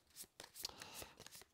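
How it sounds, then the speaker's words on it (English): Playing cards for the board game Skies Above Britain are riffled and shuffled in quick, crisp bursts of flapping, close and fairly quiet. "All right, shuffle that up again."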